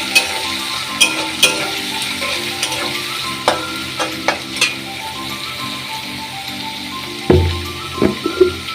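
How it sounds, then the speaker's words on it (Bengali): Green chillies and spices frying in a pan for a katol fish kaliya, with a constant close sizzle and regular sharp clacks of a spoon stirring, over a faint tonal hum. "এবার এটাকে আমি ভালো করে ফ্রাই করে নেব।"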